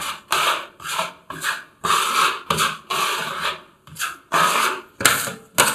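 A filling knife scrapes filler across a wall in a series of close, rhythmic raspy strokes separated by brief pauses.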